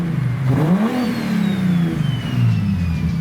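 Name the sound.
single turbo BMW M3 engine revving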